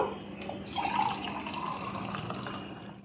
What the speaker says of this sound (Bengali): প্রথমেই আমি দেখো একটু জল নিয়ে নেব